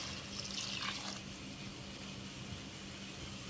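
Running water pours steadily into a cooking pot for prawn biryani, a continuous splashing stream with a brief brighter gush early on, no talking.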